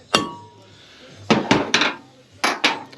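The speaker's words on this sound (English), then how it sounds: "Just don't want to tap this thing through the vise too much." A Royal Enfield bobber motorcycle part is tapped into a vise in a workshop. Several sharp metallic knocks land in two uneven clusters, loud and close, with quiet between them.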